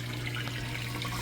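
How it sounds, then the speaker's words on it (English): A Maytag top-load washer drains its wash water, giving a steady rushing, gurgling flow with a constant low pump hum throughout and no talk. "draining that water out nice and fast"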